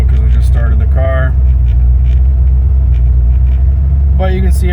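A C4 Corvette engine runs steadily just after a cold start, a loud, continuous low rumble that sits under someone talking throughout.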